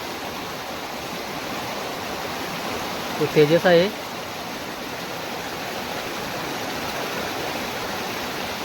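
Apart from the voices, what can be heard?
stream water flowing where crabs are caught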